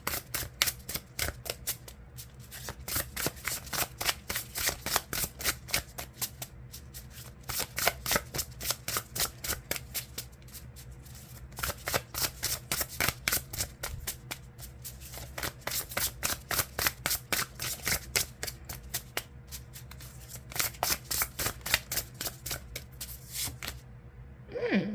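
Tarot cards are shuffled continuously and close up in rapid crisp riffling bursts, repeating in steady waves with brief pauses between rounds, with no talking.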